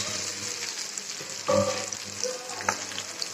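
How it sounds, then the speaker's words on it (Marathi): Onion frying in a pan for a spiced cracked-wheat dalia, with garlic and curry leaves; a steady low sizzle runs throughout, with a louder burst of stirring midway and a few clinks, close and without talk. "कांदा टाकला, कांदा चांगला भाजून देते."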